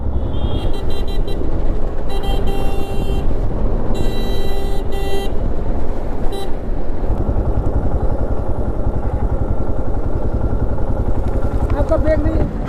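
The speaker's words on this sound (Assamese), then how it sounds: "আপুনি সেইকাৰণে হৰ্ণ বজাই আছিলে মই ভাবিছোঁ কোনে এনেকৈ হৰ্ণ বজাই আছে" A vehicle horn sounds in several short, repeated blasts on a rough town road in Dhekiajuli, over the constant drone of a riding motorcycle's engine and wind, with speech mixed in.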